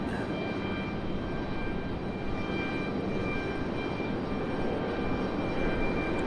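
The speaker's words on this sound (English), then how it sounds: "American Airlines 777 heading back to" An American Airlines Boeing 777 jet departs Raleigh Durham airport for London, a steady moderate engine rumble with faint whining tones, heard on its own.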